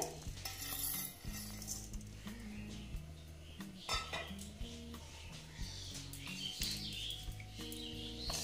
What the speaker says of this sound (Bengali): এইবার আমি মুগ ডালটা দেখো ভেজে নিচ্ছি।